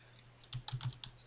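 A few scattered keystrokes on a computer keyboard, tapped in an uneven burst with short gaps. They sound close but quiet over a low steady electrical hum, and nobody speaks.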